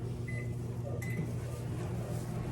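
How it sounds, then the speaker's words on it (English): A low steady hum of a running microwave oven cooking food with a wet paper towel fills the quiet room, with two faint short beeps near the start. "this is one of those kind that you actually should use the microwave for"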